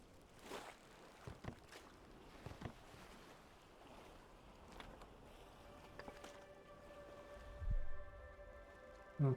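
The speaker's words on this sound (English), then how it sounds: "I'm going to bring the boat over here." Rowing a boat across water in a survival video game: soft rhythmic oar strokes and water splashes, fairly faint, with a low watery ambience and a tonal game sound near the end.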